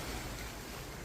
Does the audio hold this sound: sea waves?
yes